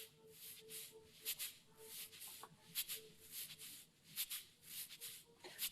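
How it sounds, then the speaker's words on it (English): Faint cabasa shaken in a steady rhythm within a hip-hop beat, its dry scraping rattles accenting each beat much like a hi-hat, quiet and without voices. "You know me, I love the cabasa."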